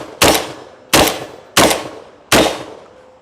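Four loud shotgun shells fire from a Rev Arms Impact M4/R4 in a steady, rapid rhythm, each a sharp close blast with a short decaying tail and no talking between shots.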